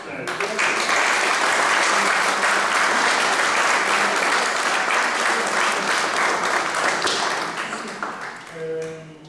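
A large audience at a Piedmontese singing event applauds loudly with dense, vigorous clapping and some rhythmic tapping. The applause holds strong for most of the stretch, then tapers as a voice begins speaking at the end.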